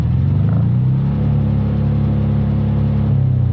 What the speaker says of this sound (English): Let's have a listen to the Piaggio revving.